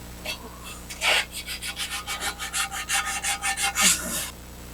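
Paint hand-sanded off a trike, rapid rhythmic back-and-forth scraping strokes, close and steady, with no one speaking.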